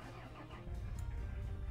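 A car engine starting in the game Mon Bazou, a brief cranking that catches into a low, steady idle rumble, close and fairly quiet, with no talking.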